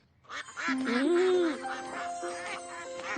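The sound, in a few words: duck quacking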